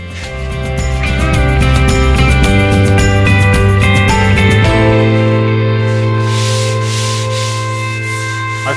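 Sandpaper of 80 grit rubbed by hand over a wooden strip-built kayak hull, a steady scraping rasp, with loud tonal music playing over much of it.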